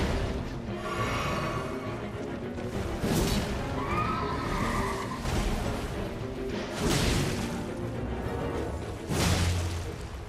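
A horse in the video game Elden Ring whinnies, mixed in with game combat effects: whooshes, crashes and heavy thuds arriving in bursts over the clip.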